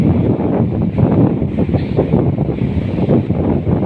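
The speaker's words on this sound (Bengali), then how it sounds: "বাতাস না থাকলেও ঢেউ আছে সাগরে।" Sea waves washing under blustery wind at open water near a boat, a loud continuous roar with heavy wind buffeting the microphone and no talking.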